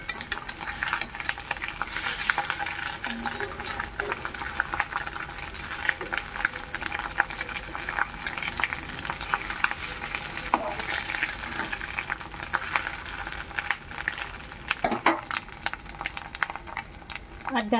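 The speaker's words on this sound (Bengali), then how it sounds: "এক পিঠ ভাজা হয়ে এসেছে, উল্টে দিয়ে আর এক পিঠ ভেজে নেব।" Catla fish roe frying in a pan on low heat, giving a constant close crackling sizzle with scattered pops and stirring clicks throughout, while someone talks over it.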